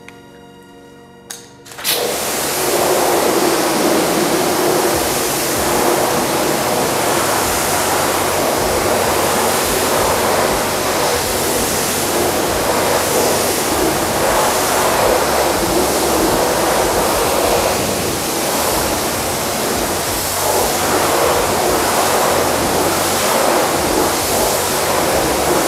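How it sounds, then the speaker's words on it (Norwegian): A pressure washer blasts water over a car wheel rim and tyre and into the wheel arches, a loud, steady hiss of spray that runs unbroken for the whole stretch after a brief quiet start, with no voices. "Når dere holder på nå å skylle av felgen og dekket, det er også å spyle hjulbuene godt."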